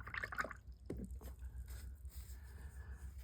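A wet paintbrush lifted out of a water jar during art journaling, giving a soft splash and quick drips in the first second, then faint scattered trickles over quiet room noise.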